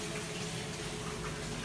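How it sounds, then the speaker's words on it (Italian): Salted boiling water is poured from a small cup into a pot of pasta and chickpeas, a steady, close, even rush of liquid with no pauses or voices over it. "prendete l'acqua che è salata ed è bollente e aggiungete acqua"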